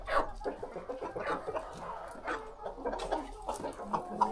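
Australorp hens cluck softly and continuously while drinking vitamin water, a low, steady murmur of several birds close by with a faint background hum.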